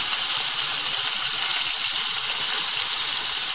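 Marinated chicken pieces fry in hot oil, giving a loud, steady sizzle that fills the whole stretch without pause, heard up close with no talking.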